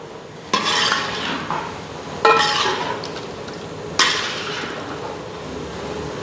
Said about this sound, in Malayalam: ഇപ്പം അത് മിക്സിങ് മാത്രമാണ് ഇപ്പം ചെയ്യണേ.